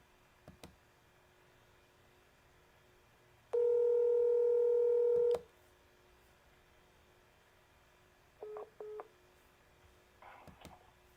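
A few faint clicks, then a loud steady phone tone held for about two seconds, followed by short beeps and more clicks in a quiet room.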